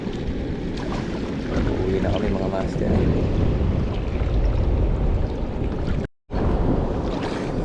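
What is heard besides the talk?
strong sea waves during rain, heard from a boat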